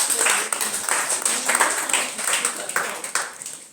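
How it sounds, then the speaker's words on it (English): A classroom of Form 3 students clapping together, a dense, steady patter of many hands close by that rises and dips in waves for a few seconds. "Let's clap for us because all of you have shared"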